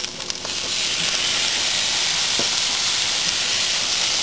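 Steady, bright hiss of soy sauce sizzling in a hot pan while making chicken fried rice, starting with a few crackles and then holding at an even level.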